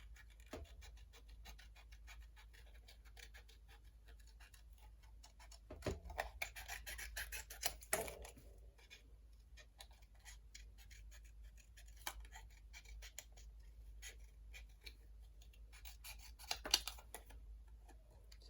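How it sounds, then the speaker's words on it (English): Tiny scissors snip and rasp softly while trimming closely around a paper shape for card making, with quiet intermittent cuts and a few sharper clicks over a low background hum. "teeny weeny scissors and we're just going to trim around that now"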